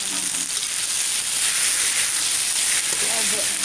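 Chilies frying in hot oil for sambal terasi, a loud, continuous, close sizzle that stays even throughout with a faint bubbling crackle underneath.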